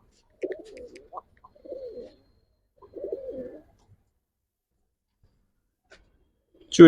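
Giribaz pigeons at a pigeon sale give three close, low cooing phrases separated by quiet pauses, with a sharp knock at the very end.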